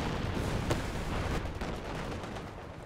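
Katyusha rocket artillery firing in a World War II strategy game, a dense rumbling barrage of overlapping blasts and whooshes that continues steadily without letting up, with one sharper crack standing out partway through.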